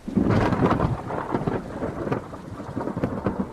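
Thunder rumbles and crackles loudly through a thunderstorm with steady rain, the booms rolling on without pause near the start and swelling again toward the end, with no voices.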